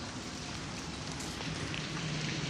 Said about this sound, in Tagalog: ang lakas po ng ulan kasi